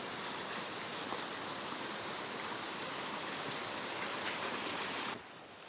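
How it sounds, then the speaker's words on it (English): Water rushing down a hiking trail turned into a small stream with little waterfalls in the Ruahine Ranges of New Zealand, a steady broadband gush heard up close and alone, dropping slightly at the very end. "Here's the section of the track that's become its own little stream,"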